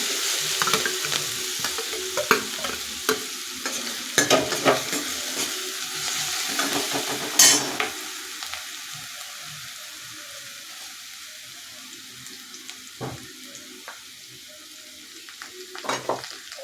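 Chopped green chilies sizzle and roast in hot oil in a pan while being stirred, with steady frying hiss and scattered scraping stirs, busier early then thinning to a quieter crackle.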